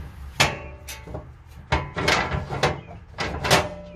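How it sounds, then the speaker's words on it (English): A trailer door is swung shut and latched, giving a run of sharp, close knocks and clunks of hardware with a few rattling impacts in quick succession. "close the top side of the door"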